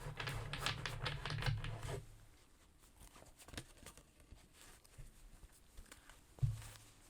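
Soft, rapid papery riffling of tarot cards being shuffled, a brisk flutter for about two seconds followed by quieter shuffling and faint taps.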